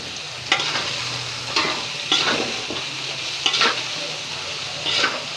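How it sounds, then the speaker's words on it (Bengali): Boiled vegetables frying in a pan give a steady close sizzle, broken by about five scraping stirs spaced at roughly one-second intervals, with no talking. "সেদ্ধ করে রাখা ভেজিটেবলসগুলো দিয়ে দিলাম"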